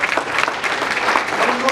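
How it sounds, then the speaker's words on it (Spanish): A church congregation at a Spanish-language service in Apopka, Florida claps loudly together, a close, lively wash of applause with some voices mixed in. "Denle un aplauso grande al Señor."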